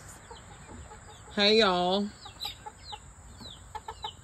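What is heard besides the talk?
chickens clucking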